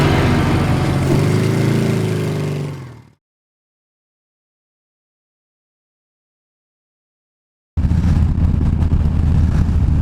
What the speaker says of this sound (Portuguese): estamos aqui andando na nossa motoca, vocês já conhecem, Harley Davidson Fat Boy Special 103, ano 2017